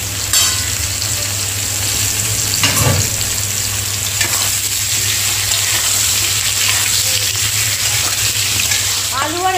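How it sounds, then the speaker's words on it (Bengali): Potato and young jackfruit pieces fry in hot oil for a jackfruit kalia, giving a steady, close, broadband sizzle throughout with occasional stirring scrapes and no talking. "আলু আর এঁচোড়টা খুব ভালোভাবে ভেজে নিয়েছি"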